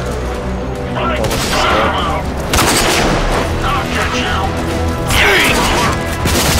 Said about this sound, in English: Shotguns again.